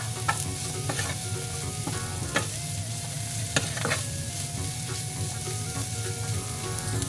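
Shredded chicken and other ingredients sizzle while being sautéed in a pan for chicken macaroni. The frying hiss is steady and close, broken by a few sharp clicks and scrapes of a spoon stirring.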